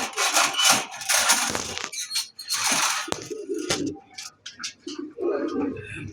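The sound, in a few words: pigeons cooing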